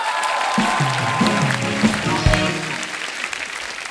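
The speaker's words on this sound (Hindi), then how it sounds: "जोरदार तालियां हो जाएं" A studio audience on a Hindi comedy show applauds under steady clapping, while a musical or vocal melody plays over it in the middle and the applause slowly eases off toward the end.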